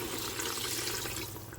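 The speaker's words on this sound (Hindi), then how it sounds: "अब हम इसमें 2 से 3 मग पानी डाल के" Water splashes and pours steadily into a cooking pot of meat, a continuous watery rush with no voices.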